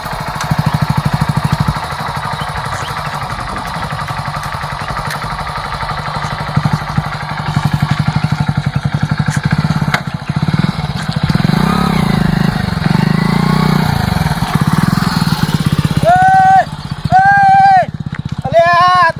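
A motorcycle engine runs loud and close with a steady throbbing drone that rises and falls as the bike rides along, with voices speaking over it near the end.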